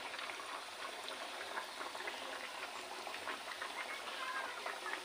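Fish fries in a pan of hot oil with a continuous soft, bubbling sizzle at an even level throughout, no voices over it.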